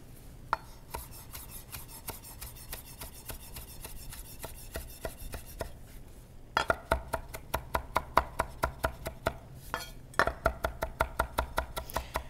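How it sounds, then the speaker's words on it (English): A knife chops parsley on a board in quick, steady taps, pausing briefly before resuming in a brisker run of sharp, close strikes. "So now we can chop the parsley."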